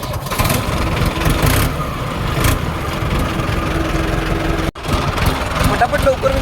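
A tractor's diesel engine runs on a cold morning, a loud, close, steady chugging idle that drops out for an instant before carrying on.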